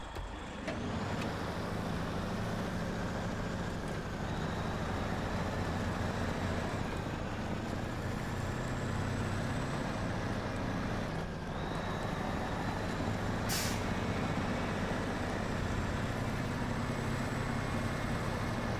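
A truck engine droning steadily as it drives off-road in the game Snowrunner, a continuous low rumble with faint whining tones that shift slightly in pitch, plus one brief hissing burst partway through.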